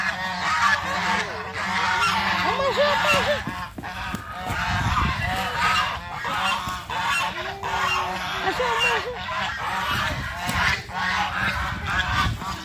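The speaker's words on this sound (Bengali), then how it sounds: "দুইটা রাজহাঁস খুব লড়াই করছে" Two domestic geese fight, honking loudly and repeatedly in harsh overlapping bursts, with flapping and scuffling noise throughout and faint voices in the background.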